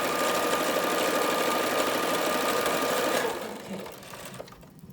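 A sewing machine stitches a cloth face mask with elastic, running as a steady, loud mechanical whir for about three seconds, then slowing and winding down to a stop.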